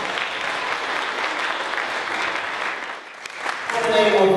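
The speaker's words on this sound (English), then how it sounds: "can we give them a wonderful warm round of applause?" An audience gives a warm round of applause for the poets at a poetry and live music event, sustained dense clapping that dips briefly before rising again.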